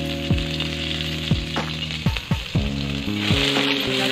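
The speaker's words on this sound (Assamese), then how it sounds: "এতিয়া পিঁয়াজখিনি দি লৈছোঁ।" Onions hiss and sizzle in mustard oil in a kadai, a steady close frying noise broken by the clatter and scrape of a spatula, with a low tonal hum underneath.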